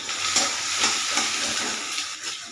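An egg frying in a little hot oil in a wok alongside potato, giving a steady bright sizzle broken by a few scraping stirs, close and continuous with no voices.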